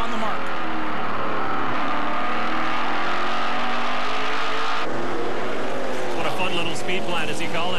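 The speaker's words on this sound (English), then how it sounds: "You can hear the drivers get back under the gas really early." Race cars on a short oval track roar continuously as drivers get back on the throttle early, a dense, loud engine drone with pitch rising and shifting as cars pass, under a commentator's talk.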